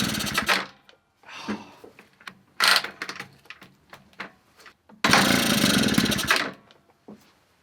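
An old small engine left unused for twenty years, with a damaged carburettor needle and no air filter, is cranked with the choke off in several short bursts, ending in one longer, louder sputtering run before stopping.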